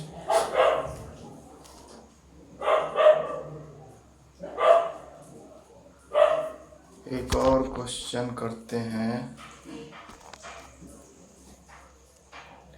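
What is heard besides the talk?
dogs barking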